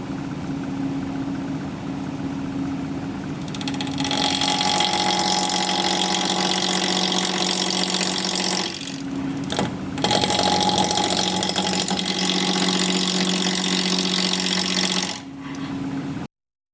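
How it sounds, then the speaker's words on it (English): A wood lathe turns a tri-corner bowl at about 900 RPM with a steady mechanical hum and buzzing tool contact. It grows louder as cutting begins, drops out briefly twice, and stays close with no speech. "I'm going to be turning at about 900 RPM."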